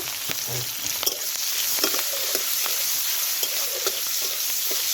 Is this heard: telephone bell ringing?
no